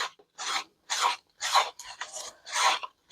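Short rhythmic scraping strokes of a tool working a thick mica-powder paste against the side of a cup, about six rasping passes with brief pauses between them, close and fairly loud with no talking.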